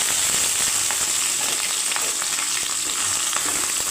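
Washed dried anchovies (nethili karuvadu) sizzle loudly in hot oil with fennel and curry leaves, a dense, steady frying hiss with faint stirring scrapes running throughout.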